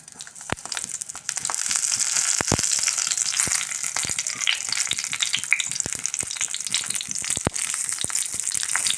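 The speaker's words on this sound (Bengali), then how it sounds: "মশলা দেওয়া বেগুনগুলো আমি একটু হালকাভাবে ফ্রাই করে নেব এই তেলের মধ্যে" Spiced eggplant pieces frying in hot oil, a bright continuous sizzle with crackling spatters, steady and close throughout, punctuated by occasional sharp clicks and taps of a utensil.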